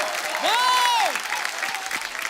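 A studio audience on a comedy talk show claps loudly as a singer enters, a continuous burst of applause with one drawn-out vocal cheer or call rising briefly over it early on.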